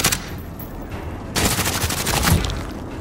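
Gunfire in the video game Warzone: a sharp shot at the start, then a loud burst of rapid automatic fire with more shots, close and punchy, mostly without talk.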